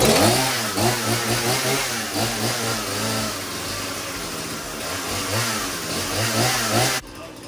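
A Husqvarna chainsaw engine runs steadily and loudly close by, its pitch rising and falling a little as it revs, before cutting off abruptly near the end.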